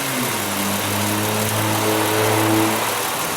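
A car engine idles while its alternator charges the battery, giving a steady close-up hum with a low engine tone that holds evenly throughout and no talk over it.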